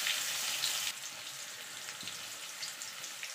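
Potatoes fry in hot oil for a vegetarian aloo dum, a steady broadband sizzle that dips in intensity partway through, close and continuous with no talking.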